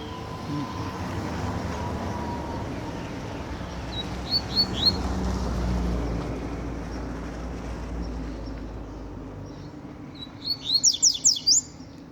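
A pet bird sings in short chirping bursts near the end, with a few brief tweets earlier, over a steady background rumble of street noise.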